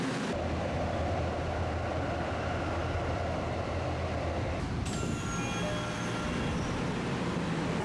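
A steady, loud rumble of a Tokyo subway train in motion, with a high whine and squeal joining partway through as the ride continues.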